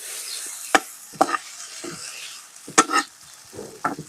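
Noodles stirred in a sizzling frying pan, with scattered sharp scrapes and clacks of a utensil against the pan over a low background hiss, no talking.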